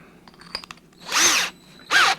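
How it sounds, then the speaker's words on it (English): Power drill with a hefty bit, used while building a 240-volt 20-amp PID controller, makes two loud, close whirring bursts, the first about half a second long and a shorter second one, after some light handling clatter. "I'm going to grab, the drill bit that I know works."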